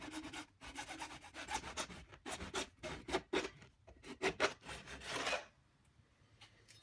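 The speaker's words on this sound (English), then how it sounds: "start by scoring the pipe as you rotate it, following the line" A plastic pipe being scored while it is rotated, giving a series of close, rhythmic scraping rasps that stop abruptly near the end, with no talking.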